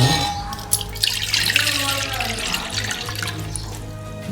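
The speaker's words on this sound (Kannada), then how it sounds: "2 ಗ್ಲಾಸ್ ನೀರು ತೊಗೊಂಡಿದ್ದೀವಿ, ಇದರಲ್ಲಿ ಹಾಕ್ತಾ ಇದ್ದೀವಿ." Water runs and splashes steadily into a bowl, a continuous close pouring sound with light gurgles throughout.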